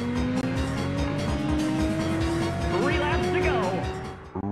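Engines whine and rise in pitch as cars race in Namco's arcade racing game Ridge Racer on PlayStation, with tire squeals late on, loud and continuous, while someone speaks over the game sounds.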